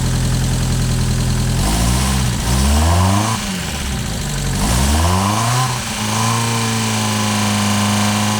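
A Mazda MX-5 with a misfire runs close by after oil was poured down the number 4 cylinder. The engine idles loudly and is revved up and down a few times, with no talk.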